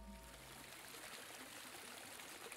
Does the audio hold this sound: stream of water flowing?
yes